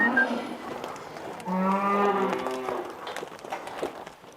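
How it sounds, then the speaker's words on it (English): A rare native-breed Albion cow gives a long, deep moo close by, rising and holding for about a second before fading, with outdoor background noise around it. "This is Daphne, one of our Albion cows."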